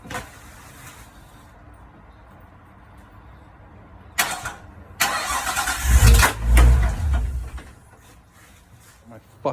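A Nissan Skyline R33 cranks and fires up after a fuel filter replacement and HKS Super Power Flow install, with a loud rumbling start and surging revs before settling, after quieter workshop noise with some talk.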